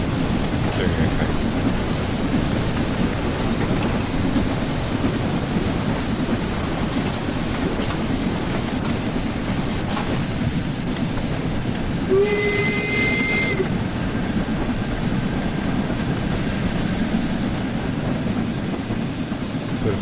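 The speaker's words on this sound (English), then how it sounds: "So the safeties are open because we have got our steam pressure is quite high" Steam locomotive safety valves blowing off in Train Sim World 4 on the West Somerset Railway, a steady loud hiss sustained under continuous rumbling rail running, with a short whistle-like tone partway through.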